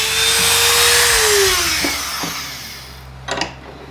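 A Dremel rotary tool grinds a car part, a loud close high-pitched whine whose pitch slowly drops under load before it fades, followed by a couple of brief sharp buzzing touches.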